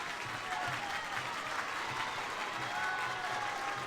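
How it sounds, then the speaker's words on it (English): Home crowd at a Milton high school wrestling match against Stoughton roaring and clapping steadily throughout, a dense sustained cheer with applause filling the gym. "You can just hear the crowd from Milton just going crazy"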